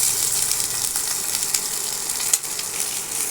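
Onion pieces fry in oil for a drumstick-leaf fry, making a steady, bright sizzle and crackle close by, with one small clink partway through.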